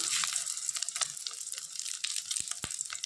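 Onions frying in a pan in a home kitchen, a steady crackling sizzle with scattered pops and a couple of sharp knocks near the end, close up and with no talk.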